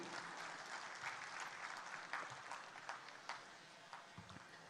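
A large audience applauding at a conference celebrating a 75th platinum jubilee, a dense continuous wash of clapping heard faintly at a distance with scattered sharper claps standing out.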